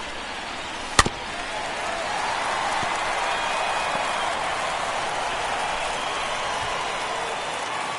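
Baseball stadium crowd noise in MLB The Show 22 forms a steady broad murmur and buzz with one sharp crack near the start, continuing evenly at moderate loudness.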